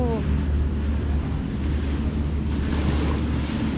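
High-tide waves at a beach near Ting Kau, Tsuen Wan, make a steady low rumbling wash, mixed with wind rush on the microphone, continuous and fairly close.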